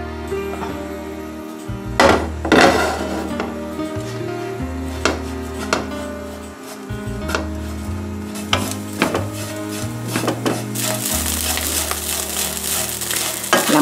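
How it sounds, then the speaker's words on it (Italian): Blended bread crumbs toasting in a pan with a drizzle of olive oil, a steady soft sizzle with scraping stirs and clinks of a utensil against the pan, heard over background music. "Metto poi il pane che ho appena frullato in una padella, aggiungo un filo d'olio"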